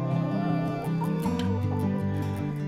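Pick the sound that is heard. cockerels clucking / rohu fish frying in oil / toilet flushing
cockerels clucking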